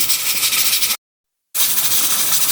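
A pressure cooker cooking githeri gives off a steady, loud steam hiss. The hiss stops abruptly for about half a second, then resumes at full strength.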